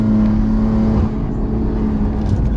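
A 700 WHP BMW M2 Competition with Pure Turbos Stage 2+ upgrades accelerates, its engine a loud, steady low drone with a sustained tonal hum heard from inside the car.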